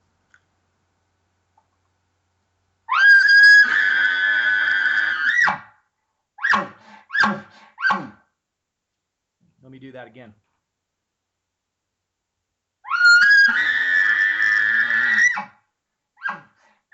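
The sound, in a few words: elk bull bugle with lip ball and grunts, imitated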